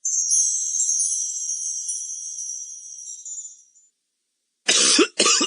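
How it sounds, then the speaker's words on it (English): A person coughs twice in quick, loud bursts near the end, after a stretch of high-pitched tone and a brief silence. "Oh, this cough is the worst."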